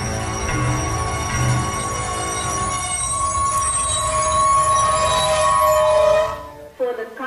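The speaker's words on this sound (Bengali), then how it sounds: "ট্রেন একটা স্টেশনে এসে দাঁড়িয়েছে।" A train pulls into a station, its wheels screeching in a long, loud, sustained metallic squeal over rumbling carriages that cuts off abruptly near the end, followed by a brief voice.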